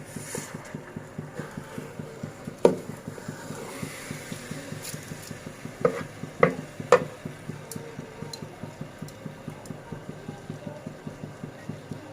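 Uncooked rice for khichuri is stirred and fried in a pan, a quick, steady scraping rhythm of ladle strokes under a faint sizzle, with a few sharper knocks against the pan.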